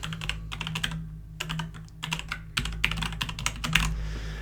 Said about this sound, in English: I type in the name of the person, and I then type in the email address